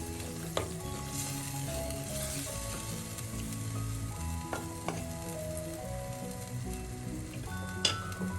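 Fish curry with tomato and soaked kudampuli bubbling and sizzling steadily in a pan while being stirred, with a few sharp clinks of the spoon against the pan.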